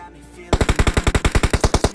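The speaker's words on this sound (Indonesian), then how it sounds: "Oke, ada nembak nih" Gunfire in PUBG Mobile: after a short quiet lead-in, a steady automatic burst of about fourteen evenly spaced, punchy shots rings out close and loud with no talking over it.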